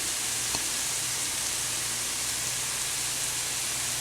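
Chopped onion and baby portobello mushrooms sizzle steadily in a hot pan for beef stroganoff, a constant close hiss with no talking.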